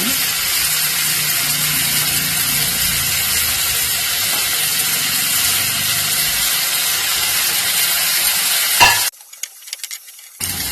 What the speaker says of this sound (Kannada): ಕುಟ್ಟಿಟ್ಕೊಂಡಿರೋ ಬೆಳ್ಳುಳ್ಳಿ ಮತ್ತು ಜೀರಿಗೆ ಹಾಕೋಣ.